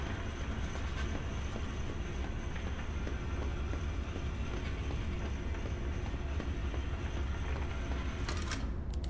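Train in the horror zoo game Zoochosis: a steady, continuous rumble of a moving train with faint rattling, unchanging and fairly quiet throughout, then a brief bright metallic burst right at the end.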